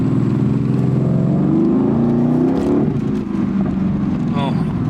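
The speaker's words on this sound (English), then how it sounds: "listen to that freaking exhaust" A 2020 Mercedes-AMG GT C roadster's exhaust revs loudly up and down at low road speed, a throaty rising and falling growl close by, with a voice briefly over it.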